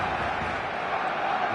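Steady roar of a stadium crowd at a football video game match, a dense, even wash of many voices with no distinct cheer or peak, moderately loud throughout.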